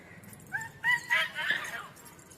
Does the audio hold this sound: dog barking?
yes